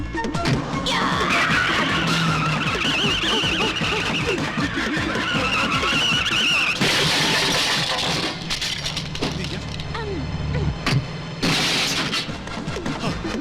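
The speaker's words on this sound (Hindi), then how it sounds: "क्या मौत के कुएं में गाड़ी चला रही है क्या?" A car is driven recklessly, with a continuous engine roar broken by sharp tire skids and screeches. Near the end come brief bursts of heavier noise. The sound is loud and close.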